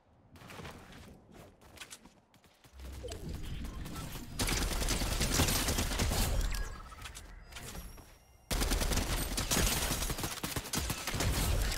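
Dense gunfire during a fight in the video game Fortnite, with long stretches of rapid overlapping shots and mechanical clatter, growing louder partway through, with no talk.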